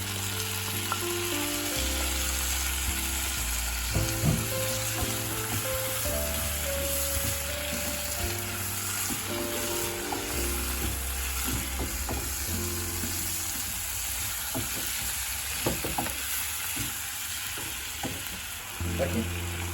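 Onions and tomatoes frying in oil for Jaffna mutton curry, a steady close sizzle with scattered stirring scrapes and spoon taps over a continuous low hum.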